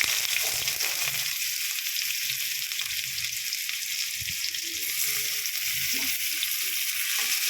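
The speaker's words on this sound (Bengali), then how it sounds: "পেঁয়াজ দিয়ে ভালো করে নাড়াচাড়া করে নিচ্ছি" Onions fry in hot oil with a lightly toasted tempering for a kulekhara greens dish, giving a constant dense hiss of sizzling with only faint, soft stirring movements underneath.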